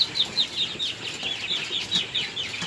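Young quails about 25 days old chirp in a growing cage, giving a rapid series of short, high peeping calls that repeat steadily at close range with no talking.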